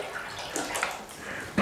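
Apple juice glugs out of a carton in a short, steady pour, a liquid splash with a louder gush at the end, heard close up with no talking.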